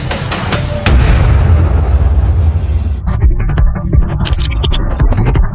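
Heavy booming blasts and deep rumbling from a night bombing attack on Caracas, loud and dense, with sharp impacts and explosions recurring over a throbbing low roar.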